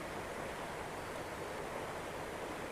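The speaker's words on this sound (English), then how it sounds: "It's got the sound of water" River water flowing through a small summer river swim, a steady, broad rushing wash that stays even and constant throughout, close by and with no voices.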